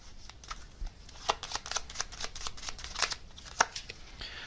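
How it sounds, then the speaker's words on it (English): A deck of gummy bear tarot cards is handled and shuffled close by, giving quick papery riffles and soft slaps in short irregular bursts, with no talking. "Get this little gummy bear tarot out."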